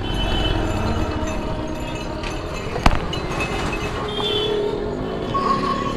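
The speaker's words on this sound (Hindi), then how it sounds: "ये कौन सा ट्रेन है रे भाई" A local train passes nearby with a continuous low rumble of wheels on rails, a single sharp clank partway through, and a steady roar that holds from start to finish.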